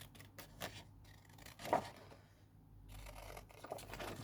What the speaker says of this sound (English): So again, I just cut round the edges.